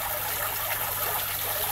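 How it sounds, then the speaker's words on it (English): An aquarium waterfall at Crab Island Aquarium trickles and splashes in a steady, continuous wash of water, close and even throughout with no voices. "Waterfall's trickling away nicely."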